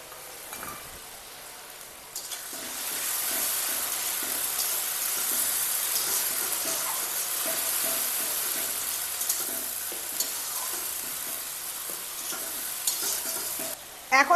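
Ginger, green chili and garlic sizzle in hot oil in a pan for a puffed-rice ghonto, a steady loud frying hiss with the scrape of stirring throughout and a clatter at the very end.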